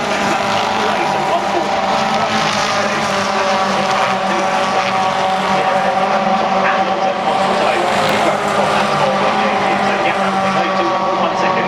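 Racing cars at Brands Hatch during a British GT race roar loudly and continuously as they sweep around Graham Hill Bend, a sustained engine drone with wind noise throughout.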